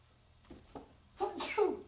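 A single sharp sneeze set off by seasoning during home cooking, preceded by a few soft breathy intakes and then a loud burst, close to the mic.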